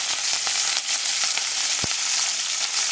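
Green chillies and curry leaves frying in hot oil for a homemade chicken gravy curry, a close, bright, steady sizzle with scattered crackles and one sharp pop, no talking.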